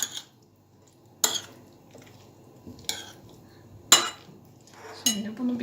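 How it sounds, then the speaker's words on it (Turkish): A spoon stirs a red bean (barbunya) salad with pickles and pomegranate molasses in a bowl, giving four or five sharp, close clinks spaced about a second apart, with soft quiet stretches in between. "Tekrar aynı şekilde karıştırıyorum."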